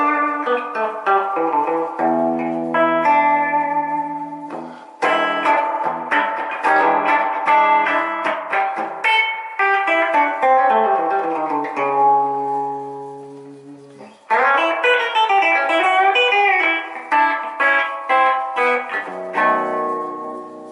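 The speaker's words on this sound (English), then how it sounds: "This is the reverb switch." Electric guitar through an HH IC 100 solid-state amplifier with reverb switched on, a continuous, loud stretch of strummed chords and note runs ringing with wash and sustain, no one talking.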